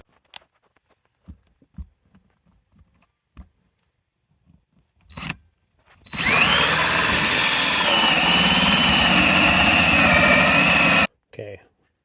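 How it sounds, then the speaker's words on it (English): Power drill with a quick-connect hole saw boring into a septic plumbing setup, scattered clicks and taps first, then a loud steady whining grind for about five seconds before stopping abruptly. "really hope I'm drilling into the right spot here"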